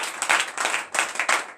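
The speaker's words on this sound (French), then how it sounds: "Donnez l'acclamation à notre Seigneur." A congregation at a morning prayer service in Benin claps in quick rhythmic bursts, loud and close, with regular pulses of group clapping.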